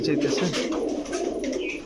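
A female Kaldam pigeon and others at a pigeon dealer's shop coo in a soft, steady low murmur, close and continuous under a busy indoor background with some talk.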